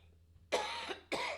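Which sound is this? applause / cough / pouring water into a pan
cough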